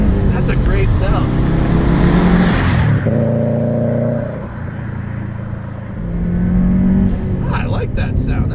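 A modified 2005 Subaru Legacy GT wagon with a 3-inch catback exhaust rumbles loudly and up close, revving hard, easing to a steadier drone midway, then building again.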